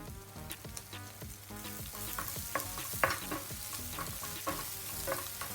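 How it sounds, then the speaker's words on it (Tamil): Fenugreek seeds, garlic and ginger sautéing in a pan for a Jaffna-style prawn curry, with a constant sizzle broken by repeated scraping stirs of a spoon against the pan, close and clear. "அத்தோடு 1/4 டீஸ்பூன் வெந்தயம் சேர்த்து வதக்கிக் கொள்ளுவோம்"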